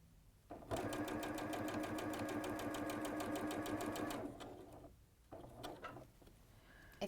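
A domestic sewing machine with a new needle runs a steady, fast stitch down a long quarter-inch seam in fabric, then stops. A few shorter whirring bursts and handling noises follow, close and clear.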